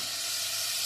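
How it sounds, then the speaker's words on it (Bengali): A little water is splashed into a spice paste frying in oil for chicken kofta, setting off a loud, steady sizzle that hisses evenly through a brief moment, close up and with no talking. "সামান্য জল দিচ্ছি মশলাটা কষার মতন"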